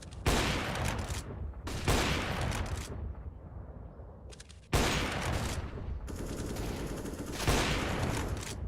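AK rifle fire in a competitive esports first-person shooter match: loud, close bursts of rapid gunshots in several long volleys separated by short gaps.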